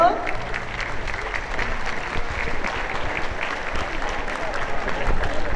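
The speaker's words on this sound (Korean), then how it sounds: "박수로 맞이해 주시죠." An audience at a Sea Day ceremony at Jeongok Port, Hwaseong, applauds steadily as Korea Sea Scouts members come forward, a dense, continuous clapping sustained at even loudness throughout.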